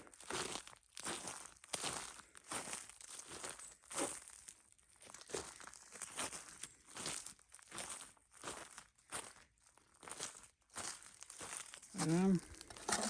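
Footsteps on frozen grass crunching ice during a January winter storm, a steady series of rhythmic crisp crunches close to the listener, fairly quiet, with a brief voice near the end.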